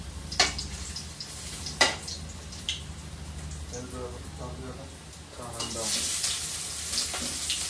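Food frying in a pan during home cooking, a soft steady sizzle beneath intermittent clinks and stirring noises, with a few sharper hits early and the frying growing brighter and louder toward the end; a voice is heard briefly.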